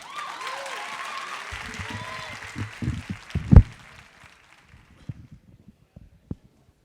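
Audience applause fills the first few seconds as a biologist is welcomed to the stage at a science comedy event, swelling to a loud clap near the middle before fading into scattered sparse claps and a quiet room.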